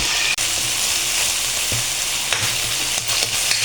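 Ginger, onion, garlic and chili sauté together in a hot pan for ginataang malunggay, giving a loud, continuous close-up sizzle with occasional stirring scrapes and no talking.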